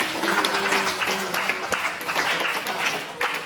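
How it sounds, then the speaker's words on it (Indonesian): A class of schoolchildren applauds together, a steady patter of many close hand claps lasting a few seconds, with faint voices underneath. "Oke anak-anak, kita beri tepuk tangan untuk kita semua."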